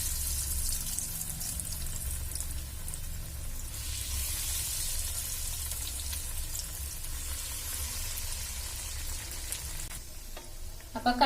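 Chicken cutlets fry in oil over a medium flame, a loud, steady close-up sizzle and crackle that runs unbroken throughout, with a few clatters right at the end.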